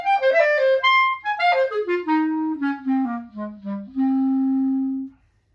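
A solo clarinet plays a slow lyrical passage from Cavallini's Adagio-Tarantella starting at measure 30, descending through connected phrases and ending on a long sustained low note, clear and close.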